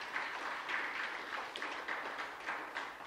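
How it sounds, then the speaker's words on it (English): Church congregation giving Pastor Dave a hand clap, soft, distant applause that stays steady throughout with a slightly pulsing rhythm. "Give Pastor Dave a big hand clap for taking care of these."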